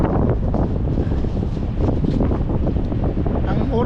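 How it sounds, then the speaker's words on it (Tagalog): Strong wind during a sandstorm in Jeddah roars as continuous, loud broadband buffeting against the microphone, with gusty rumbling swells throughout and no clear pauses. "Tsaka mahangin."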